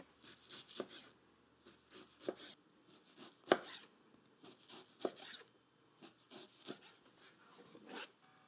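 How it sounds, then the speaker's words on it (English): A knife slices through frozen smoked salmon rolls on a board in a series of short, close cuts, each a crisp scraping stroke with a firmer thud partway through. "Slice the rolls on a slight angle into about 1/2-inch pieces."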